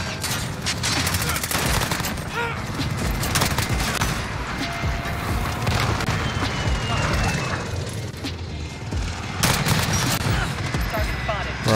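Dense, sustained gunfire rattles through a Call of Duty Modern Warfare match, rapid bursts of automatic fire layered with other shots and clatter, loud and continuous, with a player talking over it.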